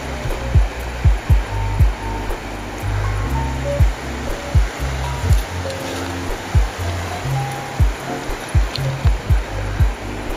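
Water of the River Calder rushing steadily past after a storm, a continuous broadband wash with repeated low thumps and gurgles from the flow, close by with no talking.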